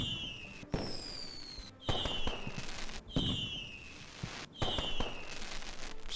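Four fireworks in the video game Black Skylands, each a sharp bang followed by a descending whistle and crackling, spaced about every second and a half at moderate volume with no talk.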